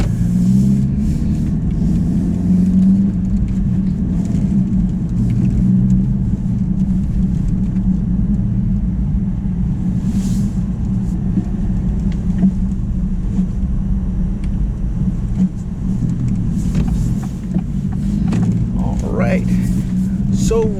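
A 2023 Acura Integra A-Spec with a six-speed manual gearbox drives along toward a highway on-ramp, its engine and road rumble steady and loud inside the cabin, with a driver talking over it throughout.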